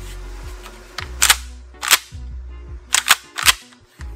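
A Kel-Tec KSG 12-gauge bullpup shotgun handled up close, giving sharp metallic clacks and snaps in an irregular series of about six, with no talking.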